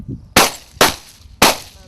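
Three sharp, loud hunting shotgun blasts at close range during a quail hunt, spaced roughly half a second apart, each ending in a short echoing decay.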